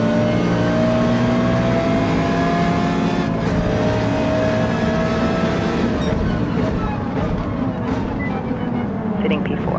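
An Audi R8 Evo GT3 race car in a racing video game accelerates hard out of corners, its engine a loud, continuous rising drone with steady revving that never drops away, while a person talks over it.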